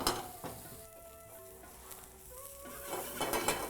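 Onions frying in a pan for egg bhurji: a faint sizzle with soft stirring and scraping of a utensil against the pan, a few light clinks rising slightly toward the end.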